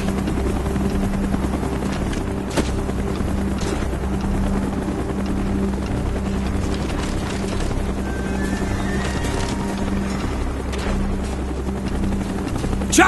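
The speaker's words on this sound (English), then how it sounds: "Chopper's inbound!" A helicopter in Call of Duty Black Ops thrums steadily and loudly, its rotor chop constant throughout with faint game effects layered beneath.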